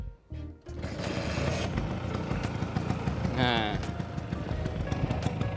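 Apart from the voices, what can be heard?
vintage Vespa scooter engine starting and idling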